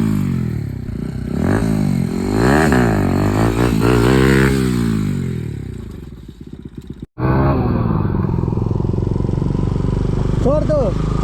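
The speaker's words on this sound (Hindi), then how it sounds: "तो रुको अब गाइस व्हीली मारेंगे।" Motorcycle engine revving hard during a rainy ride as the rider attempts a wheelie, a loud rising and falling roar, then a brief cut and a steady engine drone with wind noise.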